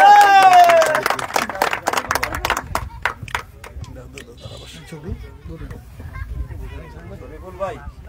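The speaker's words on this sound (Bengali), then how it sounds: "সবাই একটা করতালি।" An audience applauding at a friendly football event for former players held by a Bangladeshi welfare foundation, with a burst of dense clapping that thins into scattered claps while voices talk over it.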